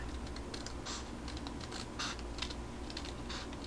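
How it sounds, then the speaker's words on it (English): Scissors snip through a paper bag to shape a pouch, giving a run of short, crisp, papery cuts in quick irregular bursts, close and fairly quiet. "So I'm just going to cut a little bit."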